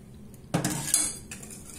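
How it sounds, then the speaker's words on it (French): A whisk clatters against a bowl as melted chocolate and butter are folded into beaten eggs and sugar, a sharp clink followed by a few lighter metallic taps. "Je vais rajouter mon chocolat sur mon mélange d'œufs et sucre."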